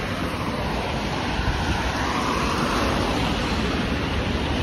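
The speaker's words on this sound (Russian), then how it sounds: "Тут небольшое море." Sea waves wash near a wooden boardwalk, a steady broadband roar of surf with wind buffeting the microphone, continuous and fairly loud with no talk.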